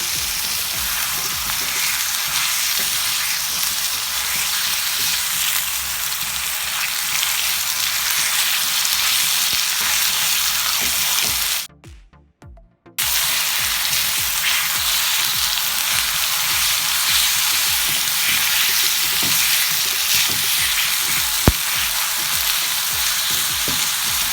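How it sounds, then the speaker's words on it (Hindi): Garlic lightly sautéing in oil in a pan while preparing keema, a steady close sizzle and crackle that runs continuously with one brief gap, no talk. "हल्का सा सौटे किया।"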